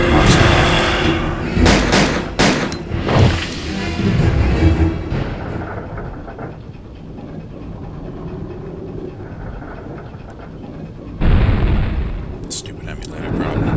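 Claire's gunshots in Resident Evil 2 crack out in a quick cluster early on, then the sound drops to a low rumbling background before another loud burst near the end.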